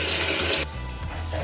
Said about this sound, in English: Now I'm gonna wash my face with really cold water to reduce bloating.